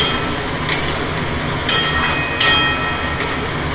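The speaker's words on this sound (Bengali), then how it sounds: "পোস্তটা আবার বেটে নিই।" Poppy seeds ground on a stone slab for Bengali aloo posto: four rhythmic scraping strokes, about one per second, each a short gritty rasp over a low steady background.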